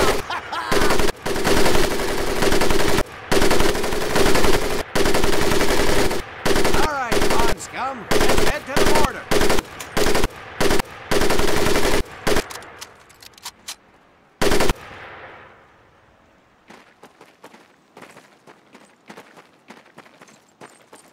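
Machine gun fire on a World War II training range in Medal of Honor: Pacific Assault, with long loud close bursts of rapid shots separated by short pauses, then thinning into scattered fainter shots and quieter background noise.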